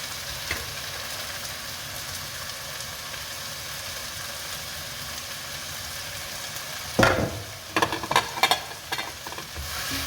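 Chicken pieces hit a hot pot and sizzle steadily for a Kurdish chicken and bulgur dish, with a burst of louder crackling and stirring partway through before the frying settles to a continuous hiss.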